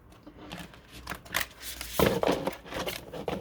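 Large tarot cards being shuffled by hand, a series of soft papery riffles and slides that grow louder and denser in the second half, close by and heard alone.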